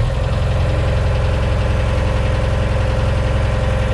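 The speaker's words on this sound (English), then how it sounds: "So it's a nice 43 horse Kubota engine. Starts off really nice." A 43 hp Kubota diesel engine in a Thomas T133 skid steer runs steadily just after starting, a loud, close, continuous low rumble with rhythmic knocking throughout.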